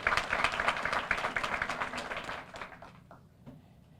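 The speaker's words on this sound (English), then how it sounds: "So let's give them all a round of applause." An audience at a graduate honors event breaks into full applause that starts loud and dense, then thins out and fades over the last second into scattered claps.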